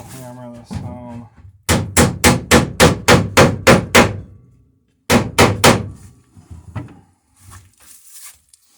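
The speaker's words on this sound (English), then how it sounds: "So we should be able to hammer this home." A hammer drives a nail into a wooden plank on a small Alpha Beachcomber boat: a burst of about nine quick, evenly spaced blows, then after a pause four more strikes, loud and close, with a brief voice at the start.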